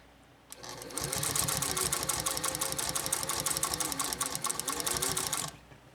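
A Singer 201-2 sewing machine punches through six layers of heavy-grade denim. A fast, steady, close mechanical chatter runs for about four and a half seconds, then stops abruptly.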